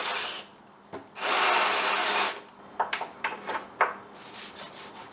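Wood is drilled out by hand for a Cessna 172 model base: one long grinding stroke, then a series of short, quick scraping bursts.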